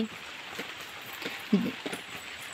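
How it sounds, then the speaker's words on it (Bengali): Steady rain patters in the background with a soft hiss, plus a few splashy taps close by. "বৃষ্টি হচ্ছে"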